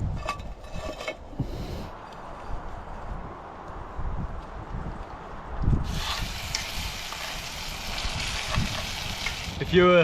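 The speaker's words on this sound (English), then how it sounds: "I'm gonna put a little bit of olive oil, put it on the pan, and then just lightly fry them" Mussel meat fries lightly in olive oil in a pan outdoors on a rugged coastline, a soft, steady sizzle with scattered crackles that grows brighter and hissier partway through, with bits of voice in the background.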